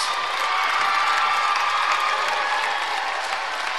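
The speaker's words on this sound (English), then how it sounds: "Ladies and gentlemen, a big round of applause for our senior cheerleaders and their parents" A high school gym crowd at a boys basketball game claps loudly and steadily for senior cheerleaders and their parents, a dense sustained roar of applause with a few faint cheers mixed in.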